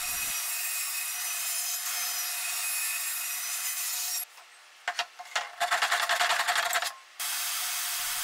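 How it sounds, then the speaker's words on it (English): A saw cutting plywood panels, bursts of rough rasping strokes with pauses between, close and fairly loud, with a steady background hum before and after. "here I'm cutting out the top on the two outside panels"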